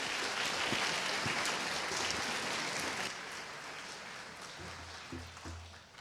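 Audience applause fills a 4-H state assembly hall after a state officer candidate's speech, a dense steady patter of clapping that thins and softens toward the end.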